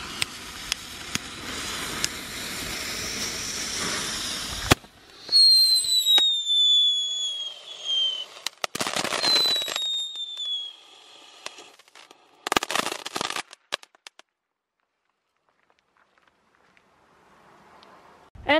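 Knetterking firecrackers go off outdoors as dense bursts of loud crackling. Sharp pops and whistling fizzes follow, then a long quiet stretch, with no one talking.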